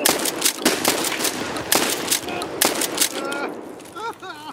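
Rapid bursts of automatic gunfire in the video game Escape From Tarkov, loud, close shots in quick strings across the clip, with a voice speaking near the end.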